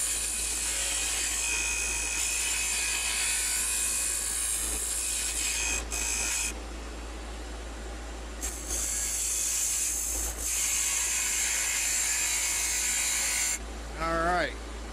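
A wood lathe spins a chess pawn blank while a large turning tool cuts, producing a steady high whirring hum with a low motor drone, dropping briefly in a few pauses before the cutting resumes.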